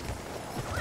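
A horse in the Battlefield 1 video game gallops in a quick burst of muffled hoofbeats, faint and brief, with no talking over it.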